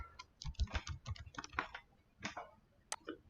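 Quick, uneven bursts of keystrokes clatter on a computer keyboard, close and fairly quiet, with short pauses between words and no voices.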